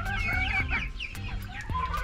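Native chickens mixed with Rhode Island Reds share one coop, clucking steadily and overlapping in a busy, close chorus with sharp individual calls rising above the flock's low murmur, no people talking.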